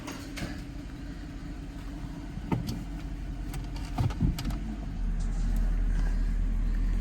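A 1995 Lexus SC 400 running again after vacuum line and fuel repairs, moving under its own power: a steady low engine rumble, close and moderately loud, with scattered clunks and a fuller drone near the end.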